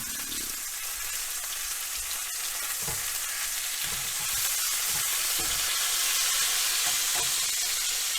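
Chicken legs and thighs fry in a sautéing pan with a loud, dense, continuous sizzle, punctuated by low thumps and scrapes as the pieces are turned, and no voices.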